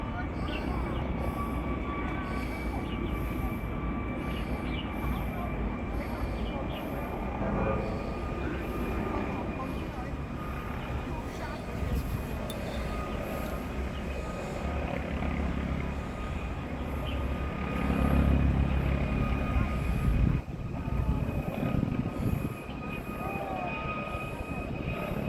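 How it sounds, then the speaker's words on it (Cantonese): A helicopter hovers over hilly country, its engine a steady drone that holds for the whole stretch and swells briefly near the middle, with faint voices of hikers beneath it. "呢個直升機喺度徘徊咗好耐啦"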